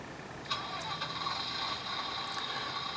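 A quiet, steady electric whine from an HO scale Sprinter model train motor starts up about half a second in and holds an even, faint tone throughout.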